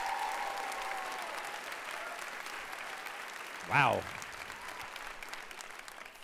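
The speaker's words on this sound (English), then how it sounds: "So by a round of applause, can I hear how many of you are KPCC listeners or LAist readers by a round of applause?" Live audience applause at a public radio event in Torrance, a sustained wash of many hands clapping at steady loudness throughout, with a brief spoken exclamation near the middle.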